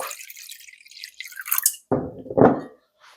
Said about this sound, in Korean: 물 좀 붓고